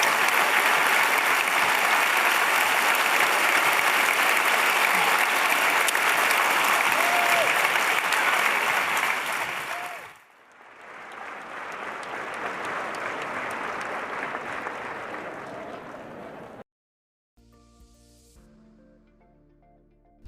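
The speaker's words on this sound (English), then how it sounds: "big round of applause here to Guy Russ." Studio audience applause after a book talk, loud and sustained, dips briefly, then comes back as a second wave before cutting off into a quieter musical tail.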